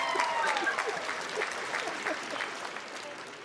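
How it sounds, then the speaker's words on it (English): Audience applause breaking out after a guest is thanked at a Black beauty education and training event, steady clapping from a crowd sustained for several seconds with a few voices in the background. "Let's give you a big round of applause."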